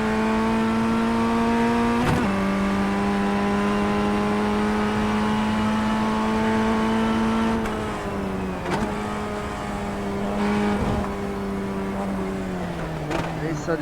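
A race car in the iRacing sim game holds a loud, steady engine drone, drops in pitch during brief braking for a corner, then builds again under full throttle, accompanied by sharp clicks.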